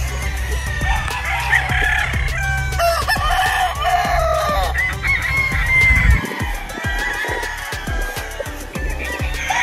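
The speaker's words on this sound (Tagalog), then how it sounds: "Iisa itsura ng mga manok dito, puro identical." Several roosters crow loudly nearby while hens cluck in the background, the calls overlapping throughout.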